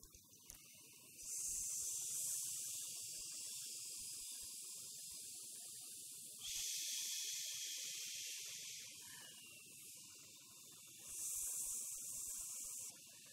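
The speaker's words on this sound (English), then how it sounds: "when you expire on s or sh at your own rhythm" Long hissing exhales on an s sound, three sustained breaths each lasting several seconds, close and fairly quiet, with soft breathing between them.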